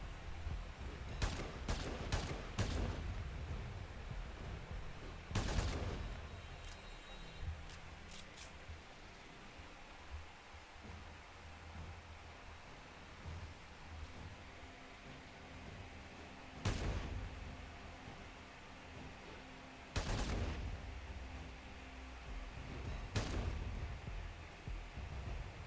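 Shotgun blasts in Warframe come in sharp, loud bursts, a quick cluster early and then single shots spaced several seconds apart over a low background hum.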